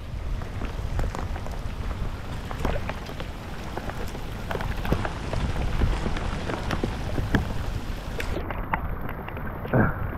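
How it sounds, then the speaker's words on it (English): Steady rain falls on the water and a fishing boat, a dense continuous patter with close drops striking the hull, unbroken for the whole stretch with no talking. "Rain, rain, go away."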